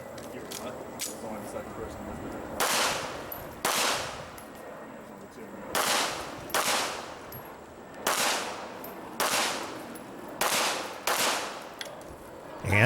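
Pistol fire on an IDPA shooting stage: roughly ten sharp, loud reports, some in quick pairs and others spaced apart, with a brief gap for a reload, while a voice talks throughout.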